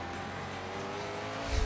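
Koenigsegg Agera supercar engine in the Forza Horizon 3 racing game: a continuous low engine drone that swells and revs up sharply at the end, with no talk.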